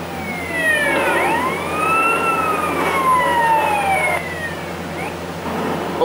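A police car siren in Grand Theft Auto San Andreas wails loudly and steadily, its rising and falling tones sweeping continuously close by, with vehicle engine rumble underneath.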